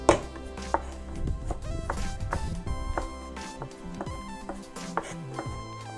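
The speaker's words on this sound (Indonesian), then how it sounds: "untuk bawang putih kita geprek lalu kita cincang" A knife chops crushed garlic on a cutting board in rapid, close, crisp taps, with a few brief pauses between runs, heard in a home kitchen.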